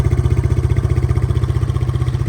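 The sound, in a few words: Yamaha BWS 125 scooter engine running, tuned exhaust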